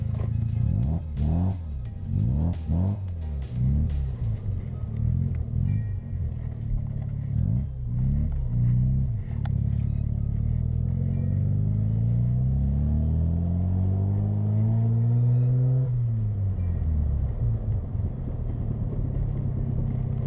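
A Mazda RX7 making an awful grinding, droning noise as it shifts into reverse, loud and close, with a rising, sweeping tone that swells for several seconds and then drops away, heard alone without talk.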